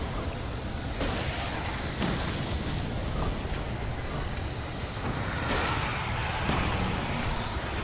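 Gunfire in the Alan Wake video game rings out as sharp, scattered reports over a constant dense rumbling noise, irregularly spaced and moderately loud, with a few stronger bursts standing out from the roar.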